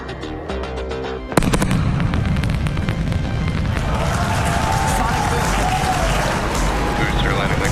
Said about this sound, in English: And these are going to provide quite a show because you're going to hear the sonic booms.